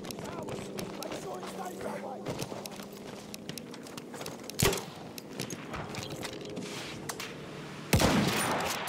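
Battlefield 1 machine gun fire rattles in rapid bursts throughout, with sharper, louder shots near the middle and the end over a dense battle din, and a voice calls out among it.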